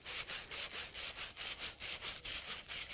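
A sponge scrubs a copper piece before soldering in quick, even back-and-forth strokes, about a dozen rhythmic rasping passes, close and fairly loud with no talking.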